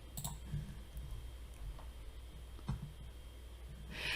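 Mouse clicks on a save button during computer setup work, a few faint sharp clicks scattered over a quiet background without any talk.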